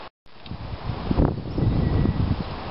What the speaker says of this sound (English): I hope you can hear me okay with this wind.